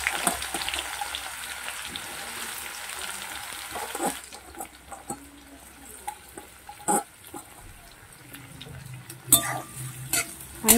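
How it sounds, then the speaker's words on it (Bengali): Onions frying in hot oil over a full high flame, a steady broadband sizzle with intermittent scraping stir clatters, louder at the start and easing slightly after a few seconds. "তাতে আমি পেঁয়াজগুলো ভেজে নেব।"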